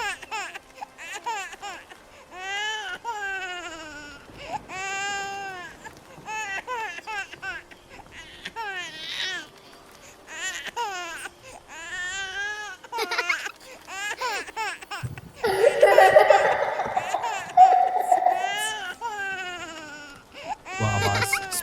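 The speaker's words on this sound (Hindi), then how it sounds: "कभी तो किसी बच्चे की रोने की आवाज आ रही थी," An infant's wailing cries and high giggling laughter in a village horror animation, rising and falling in repeated bursts, with a louder, denser surge near the end.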